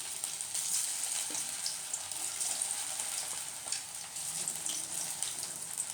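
Potato and poha cutlets frying in a little oil in a pan, a steady bright close sizzle with small crackles throughout and no talking.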